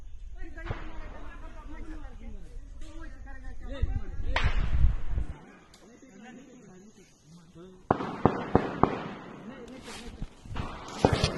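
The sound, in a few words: gunfire during a police encounter with Naxalites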